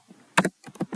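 Keys on a computer keyboard clack as a folder name is typed. A short burst of about half a dozen close, crisp taps comes in two quick clusters.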